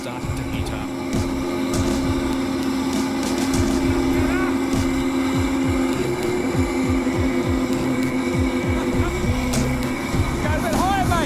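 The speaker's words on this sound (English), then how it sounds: "The turbo starts, but is short of the suction needed to clean the area." An improved vacuum machine's turbo running, a loud, steady mechanical drone with a strong hum and rising and falling whine sweeps, close and continuous.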